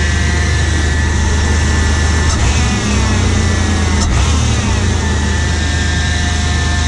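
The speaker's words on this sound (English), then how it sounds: "you definitely get the suction noise if you hit the throttle" Engine of a 1998–2004 Chevy S10 pickup fitted with a performance intake, droning loudly and steadily with a low rumble and a couple of brief swells in intake whoosh, with no talking.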